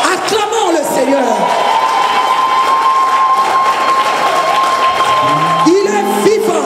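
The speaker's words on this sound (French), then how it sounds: "Acclamons le Seigneur." Congregation at a gospel praise day celebration cheering and acclaiming, a loud continuous roar of voices with a sustained high shout, whoops and clapping, with speech at the start and end.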